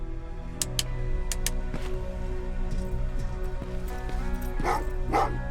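Dogs bark in the video game Terminator Resistance, a few sharp yaps and barks rising over a steady droning background hum with faint clatter, moderately close and without talk.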